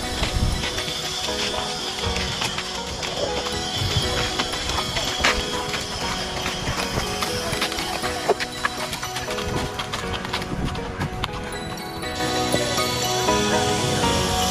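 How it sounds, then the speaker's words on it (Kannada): Horse hooves clip-clop at a steady pace during a horse ride, heard close against a dense, busy background din for the whole stretch. "ಕಡೆಗೂ ಕುದುರೆ ಸವಾರಿ ಮೇಲೆ ಸವಾರಿ ಮಾಡ್ತಾ ಇದ್ದಾರೆ"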